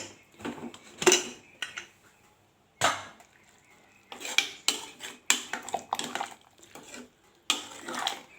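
A pressure cooker is opened in a home kitchen while bottle gourd kuttu is being made, bringing a series of sharp metallic clinks and clatters of lid and pots in irregular bursts separated by quiet gaps.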